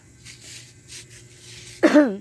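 A few soft rhythmic breaths or puffs, then one sharp, close cough near the end.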